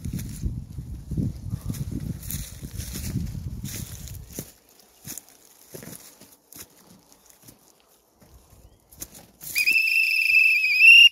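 Rustling and footsteps in forest undergrowth die down to scattered crackles, then a shrill whistle blows loudly and steadily at the end.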